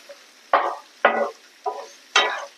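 Cauliflower pieces, with ginger and garlic, fry in a pan and are stirred in four distinct bursts of sizzling and scraping over a faint background hiss.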